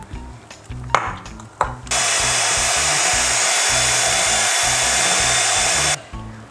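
An electric hand beater whips homemade cream with powdered sugar in a home kitchen, a steady loud whir running for about four seconds after a few clinks and taps, then stopping.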